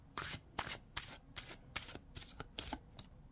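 Tarot cards from a Victorian Faery deck being shuffled by hand, a series of about eight close, crisp riffling bursts in quick uneven rhythm with short pauses between them.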